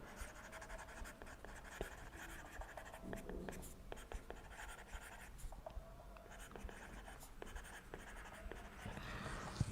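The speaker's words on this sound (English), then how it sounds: "Maybe I'll just write down." Faint, steady scratching of handwriting during a lecture on the Cook-Levin theorem, a pen or marker moving in short strokes and ticks for about ten seconds, with no voice.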